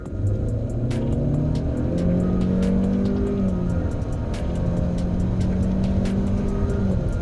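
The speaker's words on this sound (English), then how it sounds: "Full throttle in the Civic" A Honda Civic with a CVT accelerates at full throttle, its engine holding a sustained droning note that rises and shifts in pitch with no distinct gear changes, heard from inside the car, loud and continuous.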